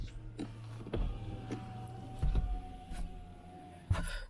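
The power windows of an Xpeng P5 electric sedan whir up and down in a steady motor drone inside the quiet cabin, broken by soft clicks and thumps as the switches are pressed and the glass seats.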